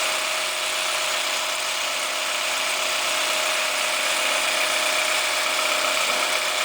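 A longarm quilting machine running steadily through free-motion stitching, giving a continuous even mechanical whir and buzz of the needle drive with no pauses, close and moderately loud, with no talking.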